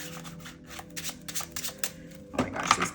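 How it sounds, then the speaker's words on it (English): Slippery tarot cards are shuffled by hand, giving a quick run of crisp riffling flutters followed by a sharper final burst of card snaps, close and fairly quiet. "they're like kind of hard to shuffle because they're like super duper slippery"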